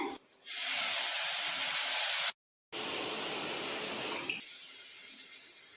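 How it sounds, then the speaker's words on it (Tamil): A steady, loud hissing pour of tamarind water into a hot pan of fish curry, broken by a brief silence, then more hissing and sizzling that gradually eases. "இப்போ நான் கரைச்சி வச்ச புளி தண்ணியை நான் ஆட் பண்ணுறேன்"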